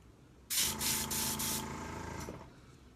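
A close airbrush sprays in a sharp hiss that starts abruptly, pulses a few times with sputtering bursts, then trails off after about two seconds, over a faint compressor hum.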